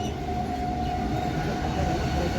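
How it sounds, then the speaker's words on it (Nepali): A Mumbai local train on a morning commute, with a continuous heavy rumble and a droning hum heard from inside the carriage, steady and fairly loud throughout. "हामी लोकल ट्रेनको यात्रामा छौँ"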